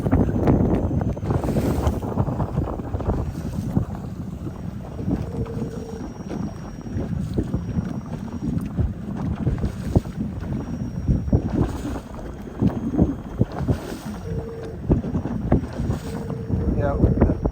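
A small motorboat with freshly repaired leaks and new wiring runs across open water, its engine drone steady and close under strong wind buffeting the microphone and splashing water, with no talk.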